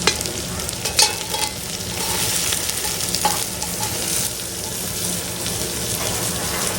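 Onion, cabbage, capsicum, carrot and green chilli stir-fried on a low flame for egg fried rice, a continuous close sizzle with scraping and occasional sharp clacks of the spatula.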